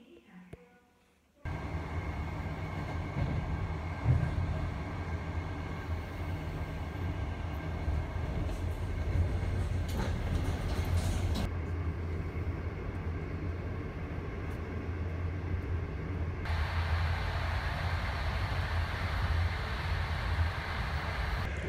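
A passenger train speeds through China, heard from inside the carriage as a loud, steady rumble and roar that rises abruptly after a quiet start and holds constant, with faint rhythmic clatter under it.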